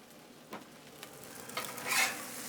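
Smoked pork belly fried rice stirred on a Blackstone 22-inch griddle, soft sizzling under a few scraping strokes of a spatula and a sharper scrape near the end, close and fairly quiet.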